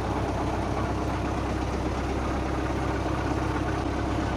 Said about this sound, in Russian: Работает трактор ровно.